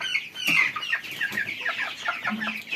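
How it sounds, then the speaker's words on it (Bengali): A 46-day-old tiger breed chicken weighing about 1100 grams on a farm clucks in a quick series of sharp, close calls that keep coming, with no talk. "এই আরেকটা মুরগি"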